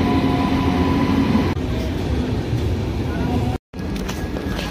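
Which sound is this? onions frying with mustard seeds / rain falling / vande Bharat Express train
vande Bharat Express train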